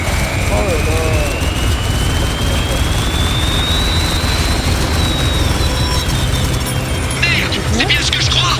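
Helicopters in the video game Spec Ops: The Line during a sandstorm make a loud, continuous rotor and engine roar with a rising whine, while someone talks over the constant drone.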